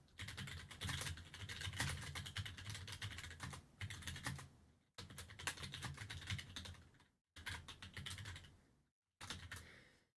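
Rapid clicking keystrokes on a computer keyboard come in bursts, fairly quiet and close, with brief pauses between runs of typing.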